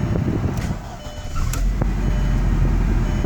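A car engine cranks and catches, then settles into a steady idle, heard close and fairly loud with no talking; the car has a check engine light on for a secondary air injection fault.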